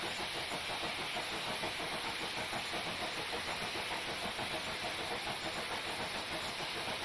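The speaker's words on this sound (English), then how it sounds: "Listen to that, chuffing away. That sounds like a proper steam engine." A steam locomotive in the Train Simulator Classic game chuffs in a quick, regular rhythm under a constant loud hiss of steam, with no talking.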